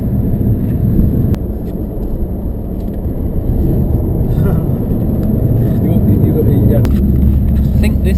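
A car drives along a road in the Scottish mountains, with a dense, loud, steady road and engine rumble heard from inside the cabin and a few faint clicks.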